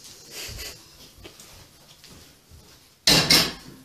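Ceramic plate and dishes handled in a kitchen while cooking vegan spaghetti with ketchup, with soft clinks and rattles through the clip and a louder clattering burst near the end.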